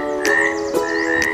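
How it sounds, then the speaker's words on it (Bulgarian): A frog croaks three times at roughly half-second intervals, each short, rasping call rising over a steady background of tonal hum, fairly loud and close with no talking. "Жабата казва: кря-кря."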